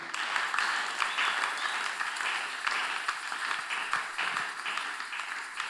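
A church congregation applauding after a call to praise, dense, continuous clapping from many hands filling the room at an even level throughout, with no speech over it.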